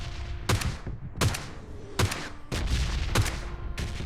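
Rapid gunfire in the PUBG Lite video game as a knocked-down enemy is finished off: six loud, sharp bursts of shots land at fairly even intervals, close and dominant, with no talking.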